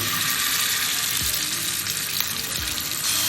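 Kilanga fish (lady fish) fries in hot oil in a nonstick pan, a steady dense sizzle and crackle heard close up and continuous throughout, without any voices.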